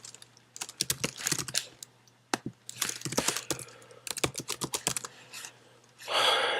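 A password being typed on a Mac computer keyboard: irregular bursts of close, crisp key clicks with short pauses, ending in a brief rustling noise.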